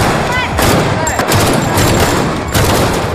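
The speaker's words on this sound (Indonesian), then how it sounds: "mereka berlatih menembak menggunakan peluru sungguhan di lapangan tembak" Rapid live-round gunfire at an outdoor shooting range, a dense fusillade of overlapping shots and sharp cracks continuing loudly and close throughout with no pauses.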